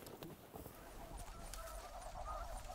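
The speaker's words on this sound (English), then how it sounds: "there's always a northern trickle of snow geese on these sunny, warming days" Snow geese fly over South Dakota on a sunny spring day, giving scattered honks and cackles that sound faint and distant against a low background hiss.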